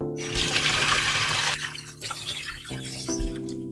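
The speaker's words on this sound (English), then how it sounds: "when you turn on this faucet, it is, well, here, you can hear for yourself" Water gushes hard from a tap in a loud, steady rush, briefly easing and surging back, close by with no talking.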